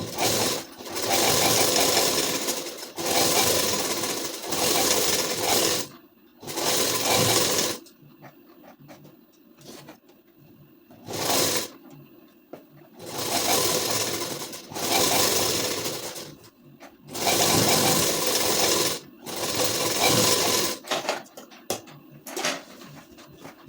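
A sewing machine runs in repeated bursts of fast, loud stitching, sewing lace onto a ladies suit, with short pauses between runs.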